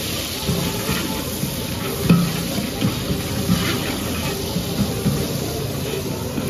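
Food sizzles and fries in a pan while being stirred during Bonalu festival cooking in Telangana, a loud continuous crackle punctuated by scraping knocks of the spoon.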